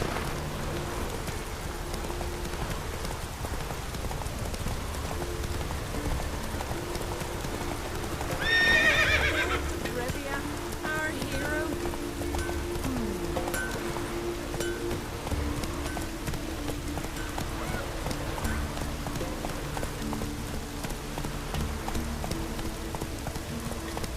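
A horse in The Witcher 3: Wild Hunt gives a steady run of hoof clip-clops and one clear neigh partway through. Light rain patters underneath the whole time.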